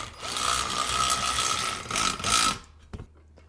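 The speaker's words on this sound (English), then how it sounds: "this is the Hercules little electric powered 12-volt ratchet from Harbor Freight." A Hercules 12-volt electric ratchet from Harbor Freight spins a 12mm socket to drive bolts into a rear bumper on a Polaris Ranger, a loud whirring burst that stops abruptly and leaves a few faint clicks.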